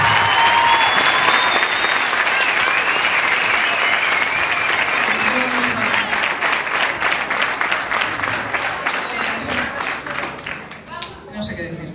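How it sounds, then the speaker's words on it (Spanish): Sustained audience applause fills a festival hall, dense and loud, with a few whistles and voices mixed in before it thins out near the end. "así que un fuerte aplauso para ella"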